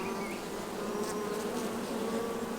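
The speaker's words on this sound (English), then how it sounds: "these bees are coming on out of the cells" Honey bees in a hive from a newly installed package, with young bees emerging from the comb cells, make a dense, steady, close buzzing drone that never lets up and has no voices over it.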